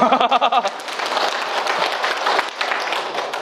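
An audience of elderly people at a senior community college session claps, opening with a few distinct claps before settling into steady, dense applause that carries on evenly at close range.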